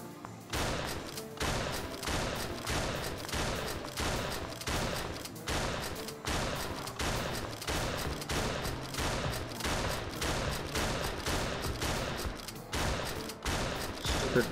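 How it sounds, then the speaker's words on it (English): Rapid gunfire and heavy shotgun blasts from a zombie shootout arcade game, a dense, continuous volley of sharp reports repeating in quick rhythm for the whole stretch, loud and close with no voices. "Now we're going on to the really fun one here. Zombie shootout."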